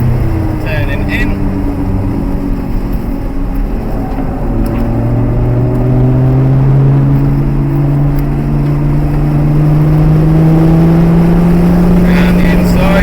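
Nissan GTR engine pulling hard at full throttle on the Castle Combe circuit, a loud rising drone climbing steadily in pitch through the gears, heard from inside the car with talk over it.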